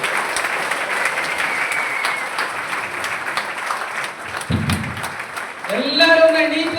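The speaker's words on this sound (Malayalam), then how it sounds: "നല്ല കൈയടി." A large audience at a business gathering in Palakkad applauds together in a dense, steady wash of clapping that swells near the end, where a brief tonal voice-like sound rises above it.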